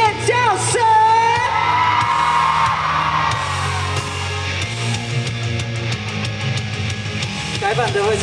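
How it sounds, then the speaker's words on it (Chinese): A concert crowd at a Pink Picnic Day show at Dream Mall in Kaohsiung screams and whoops loudly and continuously over amplified music, a dense, sustained roar with no pauses. "现场的朋友们，尖叫"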